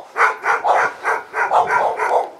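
A dog barking in a rapid series of about nine sharp barks, loud and close, with no other sound between them.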